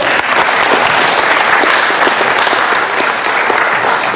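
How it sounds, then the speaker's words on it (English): An audience at a high school robotics team gathering breaks into loud, sustained applause, a dense crackle of many hands clapping close by, with no talking over it. "Let's give them a quick round of applause."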